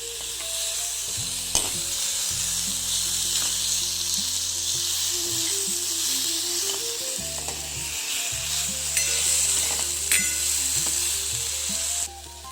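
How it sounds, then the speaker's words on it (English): Steady sizzling of sliced tomato stirred into hot ghee tempering with garlic, jeera and shredded coconut for a tur and moong dal kadhi, with scraping spoon strokes and a background hum throughout. "After mixing, add sliced tomato to it and mix it well."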